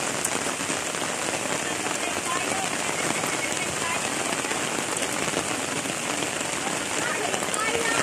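Steady, heavy rain falls on Mahanay Island, a dense, even hiss of drops on surfaces that holds without a break from start to finish.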